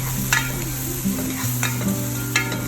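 Green chili and sliced onion sautéing with salt and turmeric powder: a steady close sizzle with periodic spatula scrapes against the pan, over a low background hum, no voices.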